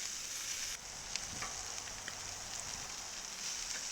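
Scallops searing on a Cuisinart 360 XL griddle with asparagus nearby, giving a steady, bright sizzle that crackles continuously and evenly from start to finish, close and fairly soft, with a few faint clicks.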